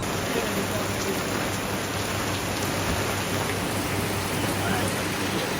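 Steady, dense rain pattering on surfaces throughout, a continuous hiss of falling drops at moderate loudness with no voices.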